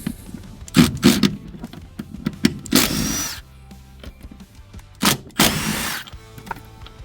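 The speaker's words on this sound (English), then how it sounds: "Remove the bolts." A power tool removes the front seat bolts on a Lexus LX, giving several loud, close whirring bursts of varying length separated by quieter clicks and handling noises.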